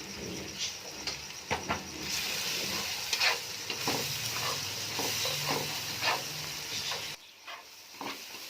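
Spices with salt, turmeric, coriander and chicken masala sizzle in a pan while being stirred, a continuous frying hiss broken by scraping and tapping of the utensil, then the sound drops away abruptly near the end.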